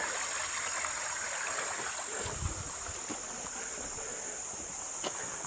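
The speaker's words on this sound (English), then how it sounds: "The creek is really high because of the hurricane." Creek running high after a hurricane, a steady broad rush of flowing water filling the scene, with a thin high insect-like whine on top and no talk.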